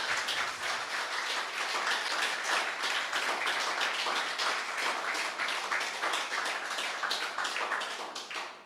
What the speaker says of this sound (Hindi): एक बार जोरदार तालियों के साथ उनका स्वागत किया जाए।